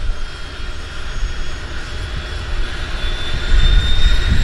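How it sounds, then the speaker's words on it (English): Seaplane engines spool up at Vancouver's downtown harbour for an early morning run to Victoria, a steady turbine roar with a rising whine that grows louder toward the end, heard close and without speech. "this is our first service out of the harbor this morning over to Victoria, lighting up those engines"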